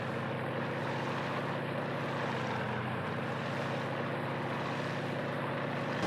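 A steady, loud engine-and-rotor drone from a helicopter fills the whole stretch without pause, with no voices over it.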